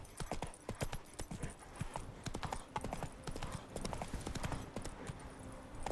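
Hooves of Roach, a horse in the video game The Witcher 3, galloping in a fast, steady clip-clop rhythm, moderately close and continuous, with sparse game ambience behind it.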